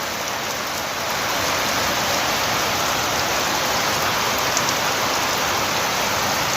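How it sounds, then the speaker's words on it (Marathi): Heavy monsoon rain pours down steadily at night in Ambhore village, a dense, constant hiss that grows slightly louder after the first second and holds unbroken to the end. "मुसळधार पाऊस या ठिकाणी सुरू झालेला आहे"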